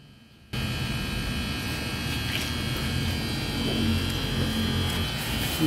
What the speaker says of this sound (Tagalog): Maingay ang bearing sa akin eh.